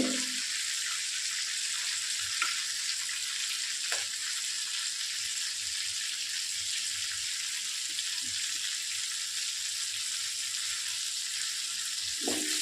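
Whole cumin and whole garam masala fry in hot oil in a pan, a steady, even sizzle with occasional soft clinks of a utensil, continuous throughout with no talking.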